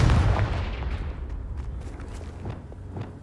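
A Confringo fire spell exploding in the video game Hogwarts Legacy, heard as a heavy booming blast that fades into a rumbling tail with scattered crackles, loud and close.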